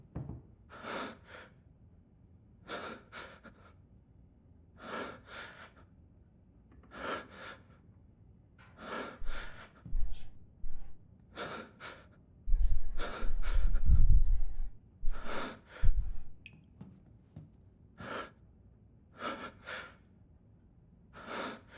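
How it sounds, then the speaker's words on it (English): Heavy, loud breathing of the player character in the Resident Evil Village video game, with regular gasping breaths repeating every second or two. Low rumbling thuds sit underneath near the middle. "I can't hear anything happening in the house because this guy's breathing too loud"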